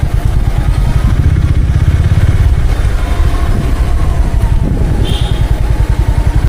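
A Honda CB350RS motorcycle engine thumps steadily while riding, a loud low pulsing beat that runs unbroken and close throughout.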